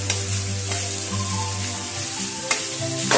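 Corn fried rice sizzles and crackles steadily in a wok over a high flame, a loud continuous fry with a low hum beneath and a few sharp scrapes of stirring.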